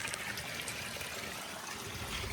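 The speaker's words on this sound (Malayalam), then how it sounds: "നമ്മൾ അടുത്ത വെള്ളം ഇങ്ങനെ ഒഴിച്ചുകൊണ്ടിരിക്കുക" Fresh water pours into an alligator gar tank in a soft, steady trickling stream, fairly quiet and continuous with light splashing throughout.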